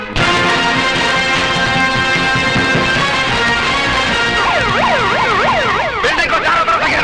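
An ambulance siren wails loud and close, with a steady tone that shifts into a rapid rising and falling yelp partway through, sounding over traffic.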